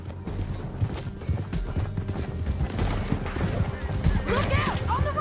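Horse hooves clip-clop in a steady galloping rhythm during a ride in the video game Red Dead Redemption 2, under continuous mechanical noise and faint game sounds, with a brief voice near the end.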